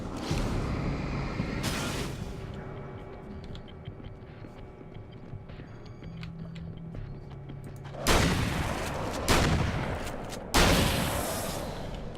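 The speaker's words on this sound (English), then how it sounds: "Just for fun, let's use the shotgun, because we never do." Shotgun blasts in the video game Alan Wake's American Nightmare: three loud, sharp booms in the last few seconds, each spaced over a second apart, preceded by quieter game ambience and low rumbling.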